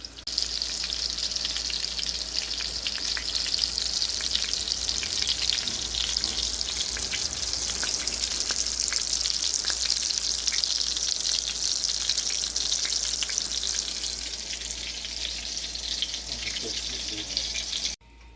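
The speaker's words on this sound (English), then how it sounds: "I'll cook them on this side and then I'll come back when I'm done." Salisbury steak patties sizzle and fry steadily in a pan, a loud continuous hiss running nearly the whole time with no talking.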